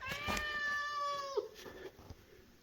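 A pet cat named Tiger gives one clear, drawn-out meow close by in a quiet room, the call rising and then falling away to silence.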